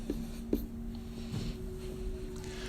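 A pen or pencil scratches on paper while a calculation is written out by hand, producing faint, close, brief strokes over a quiet room hum.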